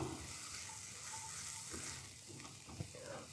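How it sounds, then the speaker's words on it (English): Beans frying in a pan give a faint, gentle sizzle heard close, with a few soft stirring knocks. "So it's got a nice little sizzle on it, but not too much"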